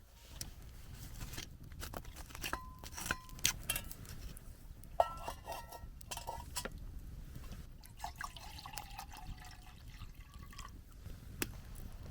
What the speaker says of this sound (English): I'm going to put some water on to boil for a nice cup of tea.